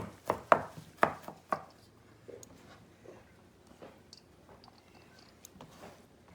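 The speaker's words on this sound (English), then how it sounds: "I rinsed the parsley. Now I'm going to chop it." A knife chops rinsed parsley on a board for Italian wedding soup: a quick burst of sharp, close strikes in the first second and a half, then lighter, scattered taps trailing off.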